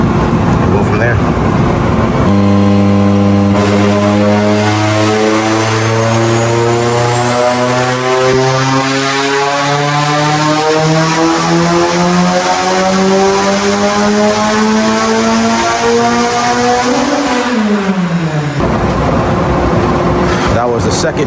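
A turbocharged Mitsubishi Evo engine runs under load on a dyno, a loud steady roar whose pitch climbs smoothly over a long pull before dropping off sharply near the end.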